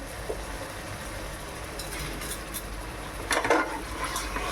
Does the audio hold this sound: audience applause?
no